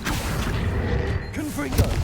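Accio summoning spell pulling a mannequin in Hogwarts Legacy, a dense rumbling magical rush with warbling tonal swoops and a thud near the end, under a game-voice murmur.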